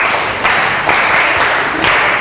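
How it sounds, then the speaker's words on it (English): Classroom of primary school children clapping for themselves, a loud patter of hands in four quick rhythmic bursts. "Now clap for yourself."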